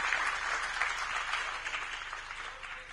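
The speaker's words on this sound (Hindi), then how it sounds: "मैं चाहूंगा एक बार जोरदार तालियां मोहन मरकाम जी के सम्मान में।" At a district discussion event, an audience gives a burst of applause in honour of legislator Mohan Markam, dense even clapping heard a little distant and fading slightly toward the end.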